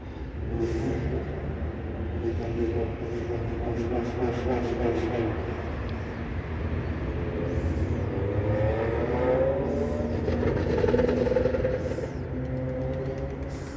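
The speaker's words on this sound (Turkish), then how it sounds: "Ya şu var ya sırf şu egzozun sesini hayvanın şeyi bozuldu ha." A motor vehicle's exhaust drones steadily and loudly nearby, a continuous engine roar with slowly rising and falling pitch that holds through the whole stretch with little variation.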